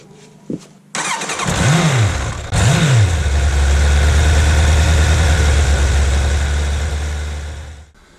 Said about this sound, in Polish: No to odpalamy silnik i pochodzi sobie 5 minut